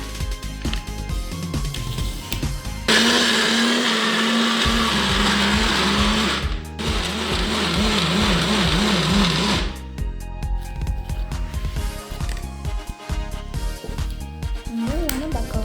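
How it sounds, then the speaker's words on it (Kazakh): A blender or juicer whirs loudly through an ice cream mixture with added milk, running steadily for about seven seconds before cutting off, with quieter kitchen sounds before and after. "Ал енді выжималкадан өткізетін боламыз."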